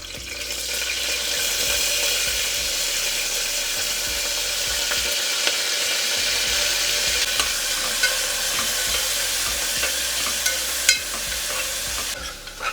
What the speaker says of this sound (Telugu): ఉల్లిపాయలు వేసేద్దామండి ఉల్లిపాయలు పచ్చిమిరపకాయలు